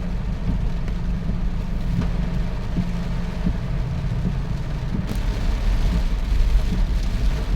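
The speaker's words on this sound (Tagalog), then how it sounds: "basta malakas ang ulan" Steady heavy rain from Tropical Storm Enteng pours down with a constant dense hiss, while low vehicle rumble from passing traffic rolls underneath throughout.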